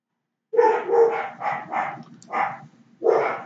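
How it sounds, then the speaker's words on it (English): Dogs barking in a home, a quick run of four sharp barks followed by two more after short pauses, close and fairly loud with no talking over them. "Apologize for the dogs in the background there"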